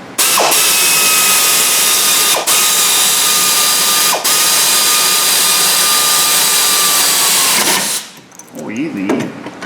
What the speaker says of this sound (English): Then we'll take and run those two bolts down